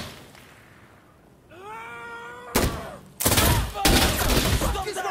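Gunfire in Insurgency: Sandstorm on a horror nightmare mode, loud and close: a first sharp burst follows a rising wailing tone, then longer sustained volleys crackle through to the end.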